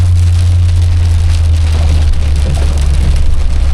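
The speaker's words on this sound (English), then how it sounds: "That's a heck of a rain." Heavy rain pours steadily and loudly, a dense constant hiss of drops on surfaces with a low continuous rumble underneath, no voices.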